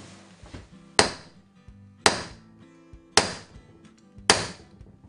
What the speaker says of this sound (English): The tool we use for this is a kinetic bullet hammer